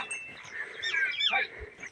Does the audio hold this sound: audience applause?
no